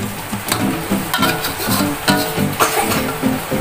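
Ground turmeric and bay leaves stirred into a simmering tofu curry, a close sizzling bubble with rhythmic spoon strokes scraping the pot, no talking.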